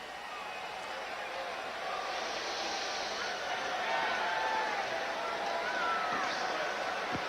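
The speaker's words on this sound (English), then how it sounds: "A sellout crowd here in Houston" Steady murmur of a sellout stadium crowd at the Houston Astrodome during a 1991 NFL game between the Denver Broncos and Houston Oilers, a constant low wash of noise with no distinct cheers.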